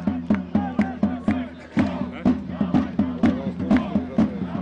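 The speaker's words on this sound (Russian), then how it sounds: "Просят болельщики Крумкачева уже забить первый гол в этом матче." Football fans at a live match rhythmically chanting for NFK Krumkachy to score, a crowd of voices repeating a pulsing, regular chant at steady tempo, loud and continuous across the clip.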